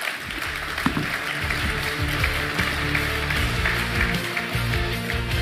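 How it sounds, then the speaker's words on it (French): An audience at an industry conference in Lyon claps for the speakers, a steady round of applause that holds at a constant level for several seconds with no voices over it. "On peut vous applaudir."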